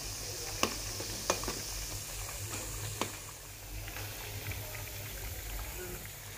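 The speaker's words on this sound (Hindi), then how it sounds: "चिकन को यहाँ पर हमने फ्राई कर लिया है करीब 6 से 7 मिनट तक" Chicken pieces frying in a pan over a medium gas flame, a steady soft sizzle with a low hum beneath and a few sharp clicks or taps of a utensil near the start, no talk.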